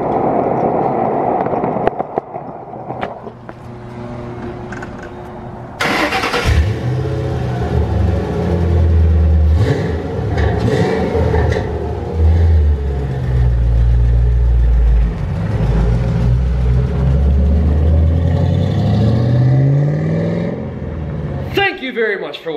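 A 2013 Jigsaw 750 engine revs loudly and close up, a deep throbbing roar that climbs and falls in pitch, following an opening stretch of talk and ending abruptly.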